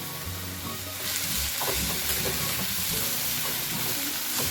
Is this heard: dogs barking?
no